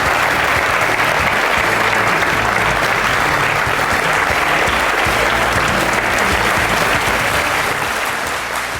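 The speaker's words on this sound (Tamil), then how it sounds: "கரகோஷத்தோடு வரவேற்கிறேன்." A studio audience breaks into loud, sustained applause to welcome 73-year-old Farooq Abdullah onto a Tamil courtroom-style TV talk show, dense clapping filling the space steadily throughout.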